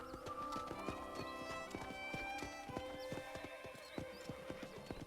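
Horse hooves clip-clop in a steady galloping rhythm with a neigh, ridden in the Western video game Red Dead Redemption (2010) on Xbox 360, loud and close throughout.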